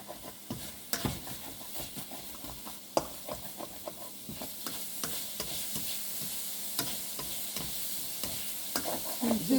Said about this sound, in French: Je vais mettre mes échalotes.